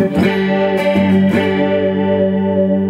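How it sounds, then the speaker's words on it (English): An electric guitar rings out a few picked notes into a held chord, shimmering and slightly wavering from a chorus effect, fading gently at the end. "an example of what my favorite setting of the chorus ensemble is like"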